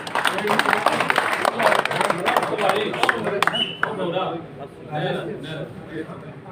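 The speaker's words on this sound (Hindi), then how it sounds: "तो जोरदार ताली बजाई जाए यूथ का हौसला देने के लिए" A crowd's loud clapping at a Rajasthan Congress felicitation ceremony, a thick burst of many hands for about three seconds that fades as a voice carries on over it.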